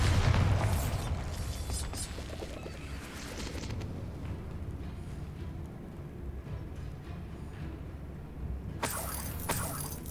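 Bombarda blast spell detonating in the video game Hogwarts Legacy, a deep booming burst at the start that decays into a rumbling tail, then a sharp crackle near the end.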